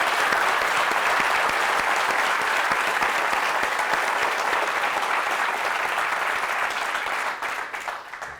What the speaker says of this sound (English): Let's applaud for her.